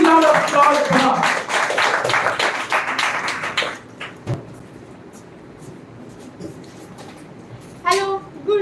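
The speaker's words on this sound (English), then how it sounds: "Please give a huge round of applause for her." A crowd at a speech competition finale claps for about four seconds, dense and fairly loud, then dies away into room quiet broken by a few stray taps before a voice begins.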